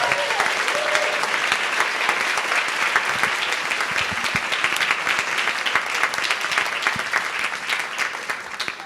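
Sustained, energetic applause at a pediatrics residency graduation ceremony honoring program coordinators, dense clapping from a large audience continuing loudly for several seconds.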